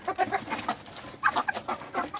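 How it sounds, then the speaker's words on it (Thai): Black naked-neck chickens of a developed meat breed clucking close by in a rapid series of short calls, with a brief pause partway through and no talking. "เขาเรียกว่าไก่ดำคอรลอนนะ เป็นพันธุ์พัฒนา"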